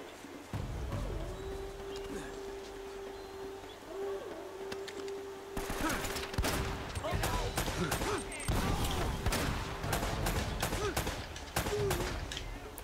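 Gunfire in Uncharted: Drake's Fortune, a run of sharp shots in the second half, fairly loud, following a steadier stretch of game ambience with a sustained tone.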